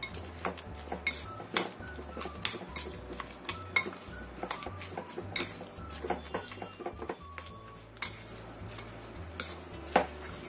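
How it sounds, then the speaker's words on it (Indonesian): A utensil scrapes and clinks against a pan in quick, irregular strokes as an eggplant dish is stirred, close and moderately loud with no talking. "Kita aduk lagi sampai tercampur rata."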